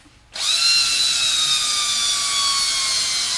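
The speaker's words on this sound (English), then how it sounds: "Take sandpaper and just sand that right off." A high-pitched cordless drill whine kicks in and holds steady with a gritty, abrasive rasp of sandpaper against a spinning pinewood derby car axle, loud and close.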